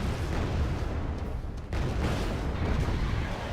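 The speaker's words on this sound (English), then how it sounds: "We'll just give them some mortar fire." Mortar fire in the video game Wargame AirLand Battle: a dense, continuous rumble of booming blasts, loud and steady, with one brief dip partway through.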